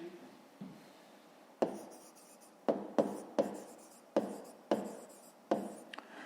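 A pen writing on paper during a math lesson, a series of sharp scratchy strokes and taps spaced irregularly, close and fairly quiet, with no talk over it.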